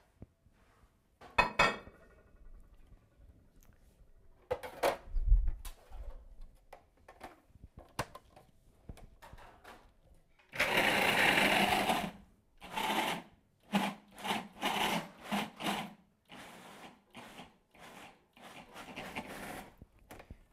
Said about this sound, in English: Oh, there's another blender over there.